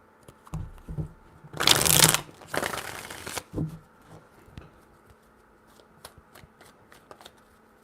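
Tarot cards are shuffled close by in three brief riffling bursts, a soft tap or two first and then two loud crisp rushes, followed by light taps and handling sounds in a quiet room.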